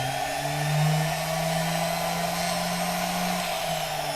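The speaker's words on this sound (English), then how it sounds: "so I need to drill a hole through this bit" Power drill boring a hole through a workpiece in a workshop, a steady, continuous motor whine held for several seconds with a slight rise in pitch near the start.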